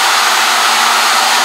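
CNC Mogul router table doing a fast dry run with feed rate and rapids turned up, a loud, steady, unbroken whirring roar.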